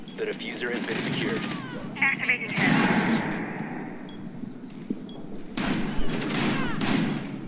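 Bursts of automatic gunfire in the tactical shooter Rainbow Six Siege, rapid rattling volleys separated by quieter gaps, with a voice talking over the action.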